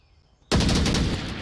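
A sudden loud burst of gunfire rips out after a short quiet lead-in during a competitive match of the VR shooter Onward on the Suburbia map, a sharp crack followed by rapid rattling shots.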